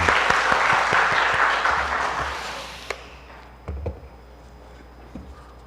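A church congregation at a Sunday morning service applauds the choir and praise team with a burst of dense clapping that fades out after about three seconds. A few scattered taps follow in near-quiet.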